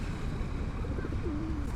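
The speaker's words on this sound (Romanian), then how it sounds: "Porumbei în jurul nostru, ciuguleți din flori." Soft, low pigeon coos close by in Piatra Neamț, Romania, a gentle throaty warble rising and falling over steady background noise.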